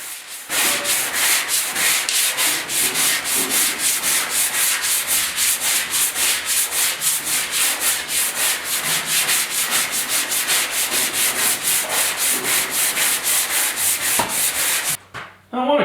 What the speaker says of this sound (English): I'm using a long board here, and that really helps with keeping your bodywork straight.